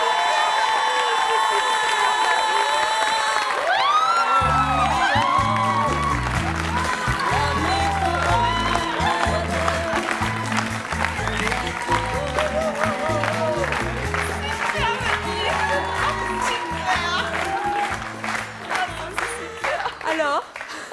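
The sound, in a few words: audience cheering and applauding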